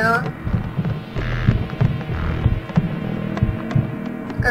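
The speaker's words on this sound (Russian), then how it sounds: "Как мое сердце бьется так шумно." A loud heartbeat effect from the video game D.i.R.T.: Origin of the Species gives paired low thumps about once a second over a steady droning hum that runs throughout.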